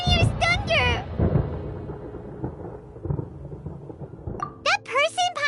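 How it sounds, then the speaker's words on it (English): Thunder rolls through a stormy Genshin Impact scene, a long low rumble swelling and fading, with voices speaking briefly before it and again at the end. "Paimon hears thunder!"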